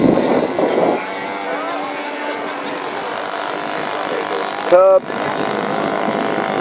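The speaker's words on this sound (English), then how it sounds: "Got a 4-stroke motor in there. A little putt-putt motor." A Golden Age scale model airplane with a small four-stroke engine flies past at a warbirds and classics fly-in, its steady buzzing drone rising and falling at moderate distance while someone talks over it.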